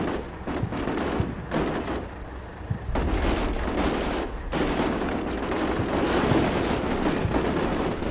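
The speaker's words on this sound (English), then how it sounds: "Our machine gunner's firing" Machine gun fire from Canadian troops assaulting an insurgent base in the wargame Combat Mission Shock Force 2, sustained loud bursts of rapid automatic fire with brief gaps, alone and without talk.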